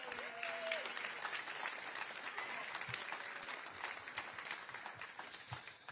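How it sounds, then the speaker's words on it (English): Faint, distant applause rises from a large crowd at a first responders honors and awards ceremony at the Houston Livestock Show and Rodeo. Loose murmuring and scattered sounds run beneath it. "while you're clapping, please give a big, warm round of applause to Dr. Chris Bowman"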